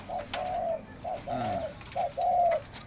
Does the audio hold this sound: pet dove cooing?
yes